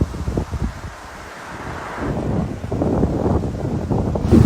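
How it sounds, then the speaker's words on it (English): Strong wind buffets the microphone in heavy rumbling gusts during an uphill desert road bike ride, building and staying loud toward the end. "Proper windy this morning"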